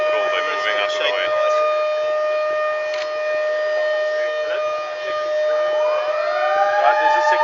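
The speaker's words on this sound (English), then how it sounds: "there's a second siren" A civil defense siren wails steadily before a building demolition on Bree Street in Cape Town, a sustained rising-and-falling tone outdoors with crowd chatter beneath and a second siren swelling up near the end.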